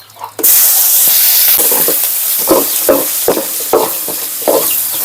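Curry leaves, asafoetida and garlic hit hot oil in a pan, setting off a loud, steady sizzle after a brief quiet start, with stirring scrapes breaking through every half second or so.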